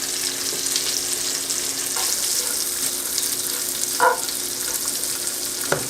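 Asparagus, bacon and pine nuts sizzle steadily in a skillet, a close, even crackling fry with a couple of brief stirring clinks.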